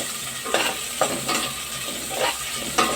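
Onion sautéing in a pan for sinigang, a soft continuous sizzle with a few sharp scraping stirs of a utensil at irregular intervals, close by and without talk.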